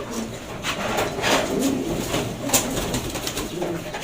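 A pigeon held in a hand gives soft cooing and small rustling movements up close, with faint background noise.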